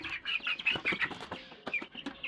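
Several Black Australorp chickens cluck and chatter close by in a busy, overlapping flurry of short calls.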